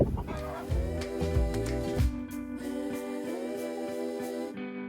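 Speckled Sussex and Americana chickens cluck and murmur close by in a steady, overlapping stream of low calls, with a louder squawk near the start.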